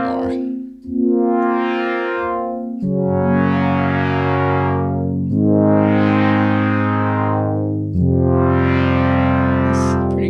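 Four long sustained notes from a Polydata analog synthesizer patch, rich in harmonics and washed in reverb and delay, each swelling and fading into the next, loud and close.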